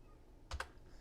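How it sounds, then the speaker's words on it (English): A computer keyboard gives two quick, close keystroke clicks in a quiet room. "I'm typing the wrong step here."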